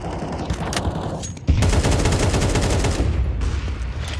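Loud automatic gunfire from a Counter-Strike match, with repeated rapid shots before a sharp surge into a sustained close barrage of rattling fire.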